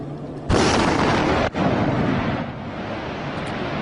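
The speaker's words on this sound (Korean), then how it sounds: "수중에서 폭발이 일어나면 먼저 충격파가 물을 타고 구형으로 전파됩니다." An underwater explosion sends up a water column: a sudden loud blast gives way to a sustained roaring rush of churning water, with no voices.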